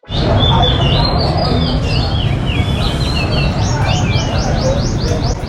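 Pet songbirds kept by locals chirp and trill steadily in a busy Saigon coffee shop, their calls carrying above a dense background murmur of crowd noise.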